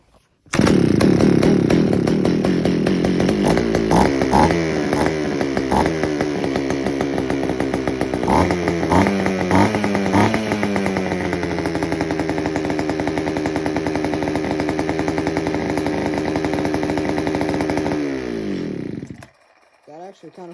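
A John Deere 55 SVL chainsaw engine fresh from carburetor work runs close and loud indoors for about eighteen seconds, revving unevenly with rising and falling pitch before cutting out, followed by a few faint sounds.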